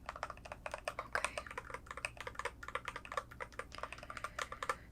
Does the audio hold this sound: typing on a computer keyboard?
yes